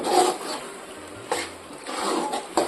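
Chicken tossed with crushed kasuri methi and coriander leaves is stirred in a pan, soft repeated scraping and rubbing strokes with brief louder swipes, close and unhurried, no talk.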